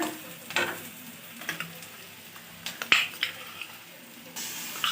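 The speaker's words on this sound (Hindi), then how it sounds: "एबे मसला टी पकेबा" Masala sizzles softly in a pan for a potato and soya chunk curry, with scattered scraping taps of a spoon stirring, close and moderately quiet, with no talking.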